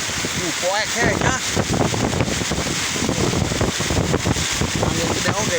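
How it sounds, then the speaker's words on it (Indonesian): Strong west wind buffets a small fishing boat at sea off Ujung Kulon during a storm, a constant loud roar of gusts and microphone-battering noise, with voices talking over it. "Angin gede oke ya"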